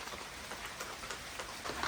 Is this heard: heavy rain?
yes